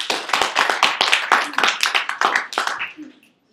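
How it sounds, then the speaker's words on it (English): An audience at a tribute speech breaks into dense, lively clapping right after an introduction, loud and close with a few voices mixed in, fading out after about three seconds. "let's give Neully all of your attention and applause."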